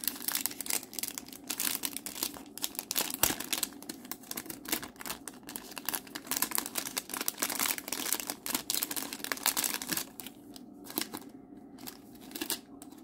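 Wrapping around a diamond painting gift package crinkles and rustles as it is opened by hand, a close run of irregular crackles and tearing scratches that quiets near the end.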